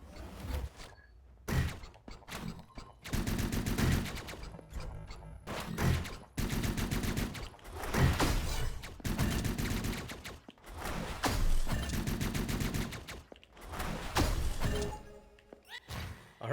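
Rapid bursts of enemy gunfire in the video game Hyper Light Drifter, repeated loud volleys of crackling shots separated by short pauses, with no talking over them.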